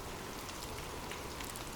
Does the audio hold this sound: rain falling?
yes